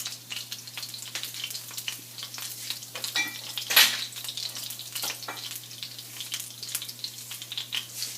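Cumin seeds frying in a pan, a crackling, popping sizzle heard up close with one sharper burst partway through, under a faint steady hum.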